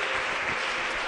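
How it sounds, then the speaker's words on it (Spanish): A church congregation applauds in a steady, dense wash of clapping that stays loud and even throughout, with no gaps and no voices standing out. "Denle un aplauso a Jesús"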